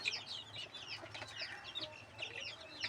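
Chickens on a poultry farm, young chicks among them, keep up a steady chorus of high chirps and soft clucks, fairly faint and continuous, with no one speaking.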